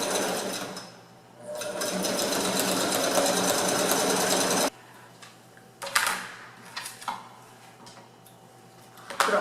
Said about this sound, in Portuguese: vão vir com o pé de zíper aqui também para fixar o viés em tudo isso daqui.